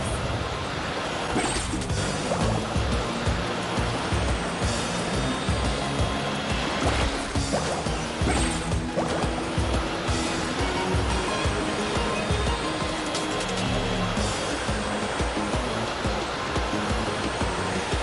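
Surfing across waves in Genshin Impact brings a continuous rushing, splashing water wash with gusty bursts and swells, loud and unbroken, with no talk.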